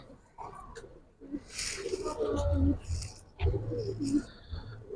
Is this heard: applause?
no